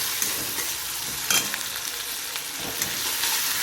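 Garlic and chili paste sizzle steadily in hot oil while being stirred, a close, continuous frying hiss with a few scraping stir accents.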